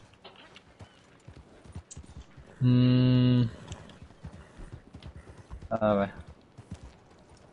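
A horse summoned in a video game clip-clops in two short bursts of hoofbeats, the first longer and louder, the second brief, over faint background game ambience with a voice speaking.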